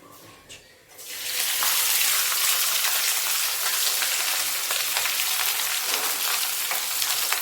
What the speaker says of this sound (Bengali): এবার আমি মাছটা ঢেলে দেব।